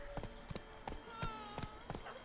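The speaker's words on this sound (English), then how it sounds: "You can travel with your horse like this." A horse's hooves beat in the Witcher 3: Wild Hunt video game, a steady rhythmic clip-clop of roughly seven strikes over low outdoor ambience, with faint talk in the background.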